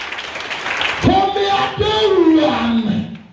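A church congregation cheers and applauds for Jesus during a revival service, with one voice shouting loudly over a steady wash of crowd noise.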